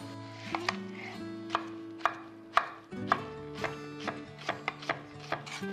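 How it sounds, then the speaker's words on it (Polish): Knife chopping two small zucchini into half-moon slices on a cutting board, a steady series of about a dozen crisp, close taps at an uneven pace with no talking. "Dwie nieduże cukinie kroję w pół plasterki."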